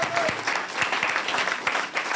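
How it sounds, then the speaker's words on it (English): Audience applause for steel band performers at an evening youth civic awards ceremony, a dense steady wash of many hands clapping throughout, fairly loud and close, with no talk over it. "let's go ahead and give a round of applause to our steel band performers"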